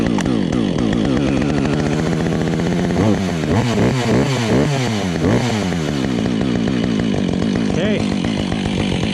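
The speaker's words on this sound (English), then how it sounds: "let's hope the old Husky 555 fires up" An old Husqvarna Husky 555 chainsaw fires up outdoors on a winter day and revs in repeated rising and falling bursts. The engine is close and loud, then drops back toward a rough idle near the end, with brief talk over it.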